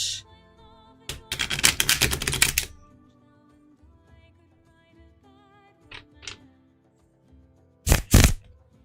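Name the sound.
shuffling cards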